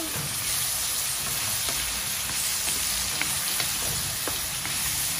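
Sweet and spicy shrimp with salt and black pepper being stirred in a pan, a steady close sizzle broken by faint scraping clicks of the spoon, no voices.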